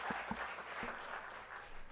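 An audience at a school governing board meeting gives brief applause, steady clapping filling a large room for a couple of seconds with a few louder individual claps at the start.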